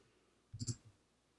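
A computer mouse gives a quick, soft click, a couple of tight snaps in a moment of near silence.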